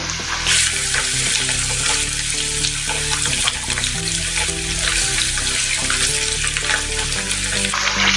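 Paneer pieces fry in well-heated oil in a pan, making a loud, dense, unbroken sizzle with faint crackles, close up and steady throughout.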